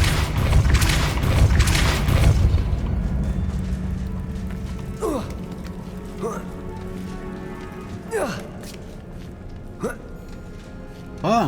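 Depulso spell cast in Hogwarts Legacy: a loud, rushing burst opens and fades over about two seconds. Several quick swooping, whistly swishes follow at intervals over a steady low hum.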